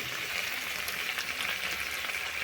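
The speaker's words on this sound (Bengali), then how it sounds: "আমি ঢ্যাঁড়সগুলো আরও একটু ভেজে নেব।" Okra frying in oil in a pan, a steady close crackling sizzle with small pops throughout, continuous and even, no voices.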